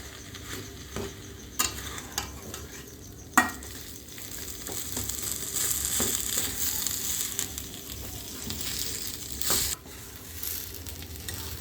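Boiled potato, fish and spices stirred together in a pan for a Bengali fish chop filling, with scraping spoon strokes and a steady soft sizzle, punctuated by a few sharper clacks against the pan.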